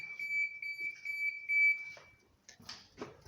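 Blind spot detection warning on a Mazda 626 GF gives a steady, repeating electronic beep in a quick even rhythm for about two seconds, followed by some faint shuffling and handling noise.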